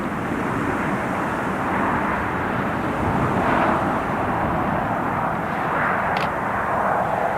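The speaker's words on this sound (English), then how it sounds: "There's the King Air just on the approach now" A King Air turboprop on approach to Newcastle airport, heard as a steady, broad engine roar and rumble from a distance, holding an even loudness throughout without any talking.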